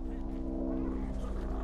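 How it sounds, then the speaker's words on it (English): An airplane flies over a house, giving a steady, low droning hum with layered buzzing tones. It stays constant and fairly close for the whole stretch. "No, that's a plane over my house."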